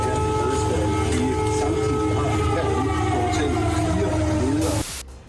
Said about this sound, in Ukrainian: Киев встретил их сигналом воздушной тревоги